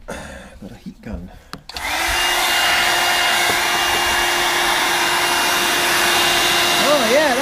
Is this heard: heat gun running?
yes